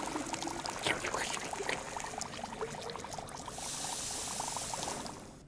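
Liquid bubbles and gurgles over a flame in a chemistry video game, a steady, quiet churn of fizzing pops that swells into a denser hiss near the end.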